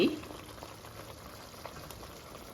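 Fish curry with green chillies simmering in an onion-paste gravy, a soft bubbling and gentle frying hiss, close and quiet, beginning with a short brief noise before settling into a steady simmer.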